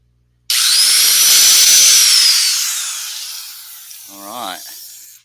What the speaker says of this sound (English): Drilling a pilot hole off of camera here.